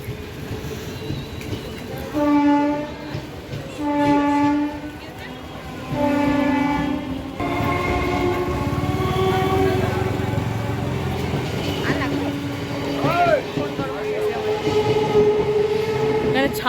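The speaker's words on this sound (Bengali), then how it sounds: "দেখো ট্রেন যাচ্ছে আর এই যে ট্রেন যাচ্ছে" A train rumbles past beside a station platform at Belgharia, with repeated two-tone horn blasts and rolling rail noise, while people talk over the din.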